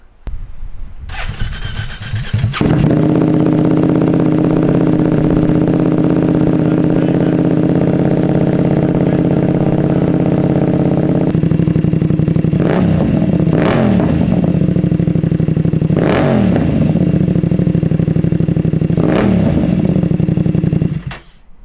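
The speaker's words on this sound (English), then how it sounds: "I'm gonna do a start with the no Decel Killer just to see how it sounds in here" A BMW F900R fitted with an Arrow Pro Race exhaust cranks and fires up, settling into a loud, steady idle heard up close indoors, then three sharp blips of the throttle rev it up and drop back to idle.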